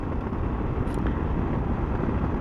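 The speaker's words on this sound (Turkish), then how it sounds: "Yorgunluğumu atmak için motora biniyorum." Motorbike ride on a road between Mollafenari and Yağcılar villages near Gebze, a steady loud rumble of engine and rushing wind buffeting the microphone throughout, with no talk.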